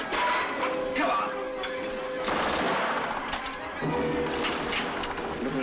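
Gunfire in a World War II battle scene from a 1944 British war film, bursts of rapid rifle and machine-gun shots crackling loudly in clusters, with shouting voices mixed in.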